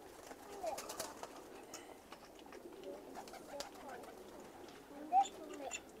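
Blue Akbaş pigeons cooing softly in a loft, low murmuring coos spread through the stretch with one sharper call near the end, over faint background noise.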